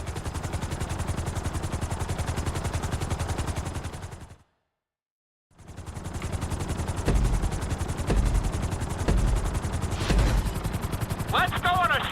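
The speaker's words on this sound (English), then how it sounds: "we're gonna put you in a helicopter for this lesson" Helicopter in GTA V with a steady, loud rotor chop and engine drone. It cuts to silence briefly, then returns with heavier thumps and bursts layered on top.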